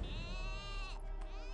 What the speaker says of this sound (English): I want to say these are earth goats, sir.